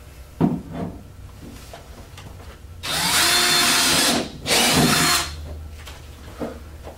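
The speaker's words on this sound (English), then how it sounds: "drill our last hole" A power drill bores a hole into a wall for a TV mount in two loud, close bursts of high whining, each lasting a second or so, with faint knocks and handling sounds before and after.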